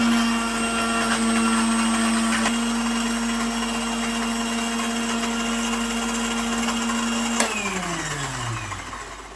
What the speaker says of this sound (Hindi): इसको भी हम अच्छे से ग्राइंड कर लेंगे और इसका पेस्ट तैयार कर लेंगे